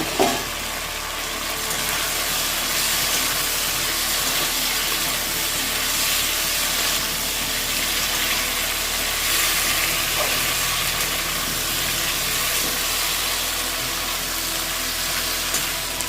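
Pointed gourd fries in a pan with fried potatoes and ginger, cumin and coriander pastes, giving a loud, steady hissing sizzle that runs unbroken throughout.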